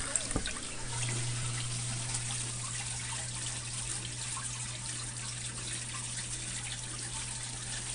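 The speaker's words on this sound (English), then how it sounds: "you can see the water start shoot again" Water from a vortex fountain driven by a pump, heard as a steady, faint trickling and bubbling flow with no voices.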